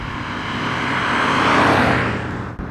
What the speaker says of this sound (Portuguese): O V8 da Maserati é realmente impressionante. Ele simplesmente ronca quando você pede potência